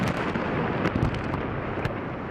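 Large explosion, an ammunition cook-off near Baghdad, heard as a dense, loud roaring rumble with crackling bursts that persists steadily and thins slightly near the end.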